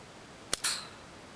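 A hole punch eyelet setting tool strikes an eyelet into bookbinding material: a sharp metallic snap followed quickly by a second, brighter clack, close and clear against a quiet room.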